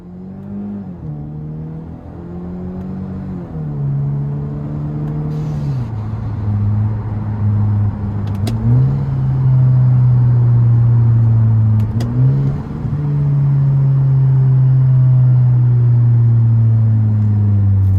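A turbocharged car exhaust burbles and pops while the driver downshifts, with a loud droning engine note that steps down in pitch several times and sharp crackles near the middle, close and continuous with no talking.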